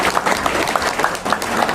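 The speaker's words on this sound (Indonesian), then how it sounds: "Tepuk tangan untuk Mas" Seminar audience applauding a speaker, dense continuous clapping from many hands, loud and close, with faint voices mixed in.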